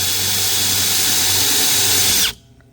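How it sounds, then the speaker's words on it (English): Power drill boring holes into the back of a drawer box: a loud, steady high-pitched whir that runs continuously for over two seconds, then cuts off abruptly into near silence. "And then I will simply use my drill here, put it in the corner if I can."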